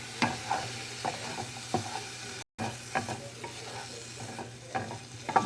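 Precooked meat browns in a hot pan with a constant crackling sizzle and repeated scraping stirs, close up, with a brief cut in the middle.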